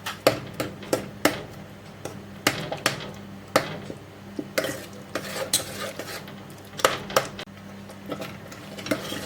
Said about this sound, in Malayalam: ഇനി നമുക്കിത് നല്ല ഇളക്കി കൊടുക്കാം